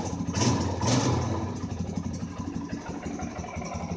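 A small Kawasaki dirt bike engine idling close by, a steady mid-pitched rumble that swells slightly at the start and then settles, with no talking.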